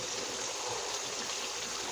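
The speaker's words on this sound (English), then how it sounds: "Put you a cup of water." A small Dixie-size cup of water being poured into a pot of homemade chili, making a steady, close trickling splash that runs unbroken for the whole short stretch.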